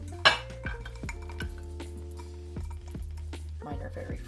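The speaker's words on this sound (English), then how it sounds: "I'm going to go ahead and put my berries in the bottom of my baking dish" Fresh blackberries dropped into a baking dish for a keto crumble, making a sharp clink at the start followed by a run of soft taps and knocks against the dish, with faint kitchen clatter.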